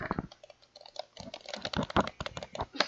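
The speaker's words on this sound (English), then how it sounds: "The sound of clicking." A computer keyboard clicks close up, with rapid, irregular bursts of keystrokes typed alone for a few seconds.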